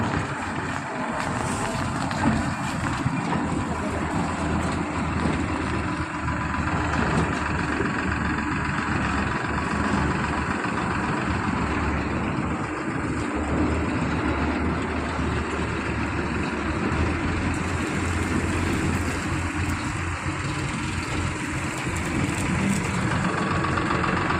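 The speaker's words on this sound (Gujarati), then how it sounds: "હવે ટ્રેક્ટરે આવી ગયું" A tractor engine idles steadily and continuously at close range on a farm during wheat harvest, a low, even rumble with no pauses or changes in pace.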